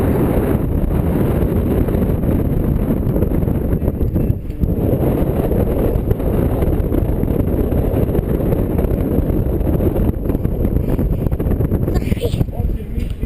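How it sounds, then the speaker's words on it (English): Strong wind roars and buffets the microphone atop a lookout tower in a steady low rumble throughout, with a person's voice briefly audible under the gusts. "Dude, it's so windy up here."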